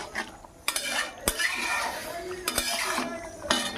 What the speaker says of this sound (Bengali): এবারে আমি একটু জাস্ট ঢাকা দিয়ে দেবো।